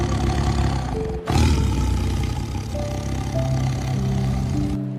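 A tiger lets out a deep, rumbling roar after a brief break, loud and close, continuing as a sustained growl for several seconds with no speech.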